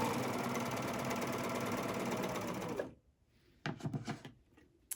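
A sewing machine stitches a seam in rayon dress fabric with a fast, steady whir for about three seconds, then stops, followed by a few brief clicks and handling knocks.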